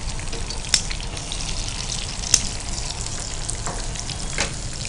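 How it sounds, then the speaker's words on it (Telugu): Corn Manchurian frying in hot oil, a dense continuous close sizzle with a couple of sharp clicks from a utensil, no voices. "ఒక సైడ్ ఫ్రై అయితే ఉంటుంది"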